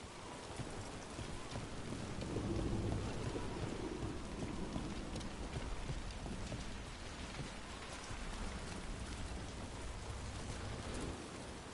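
Steady rain pours in a game world from Dragon Age: The Veilguard, a dense constant hiss of drops on surfaces with a low rumbling underlayer, even and unbroken throughout with no talk.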